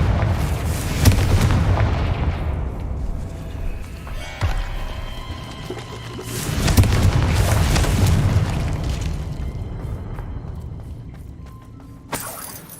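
A fiery Confringo spell explosion in Hogwarts Legacy booms loud and close, with a crashing, shattering burst followed by a second blast and rumbling debris over several seconds, amid game ambience.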